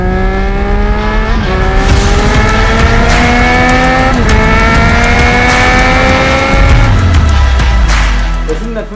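A motorcycle's 765cc inline three-cylinder engine revs hard and very loud up close, its pitch climbing in smooth sweeps with brief drops at each gear change before settling lower at the end.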